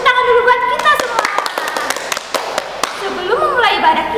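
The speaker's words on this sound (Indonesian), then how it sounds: "Tepuk tangan dulu buat kita semua." A group of children and adults claps hands together at a church service, a burst of quick, uneven claps with talking over and around them, close and lively.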